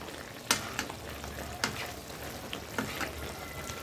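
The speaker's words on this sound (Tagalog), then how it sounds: "niluluto na natin na yan pero hindi pa siya gano'ng luto" Adobo cooking in a pan, a low continuous sizzle broken by several sharp scraping stirs at irregular intervals, close and fairly quiet.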